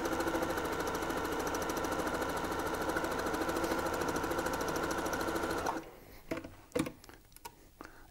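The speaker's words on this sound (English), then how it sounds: "we're going to stitch from here to the corner, from here to the corner, leaving an opening for right side turning." A sewing machine stitches a fabric seam on a soft ball, running steadily and close for several seconds, then stops and is followed by a few light handling clicks.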